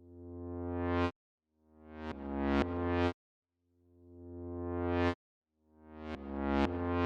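Reversed synth tones swelling up from silence and cutting off abruptly, rising riser-like gestures repeating in a rhythmic pattern, loud and up close.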